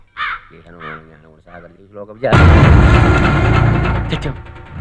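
A few harsh crow caws ring out close by, then a sudden loud, sustained noisy rush drowns everything.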